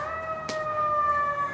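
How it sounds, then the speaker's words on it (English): A siren wails outside with steady sustained tones, fairly clear and moderately loud throughout, with a brief noisy burst partway through. "Always a siren."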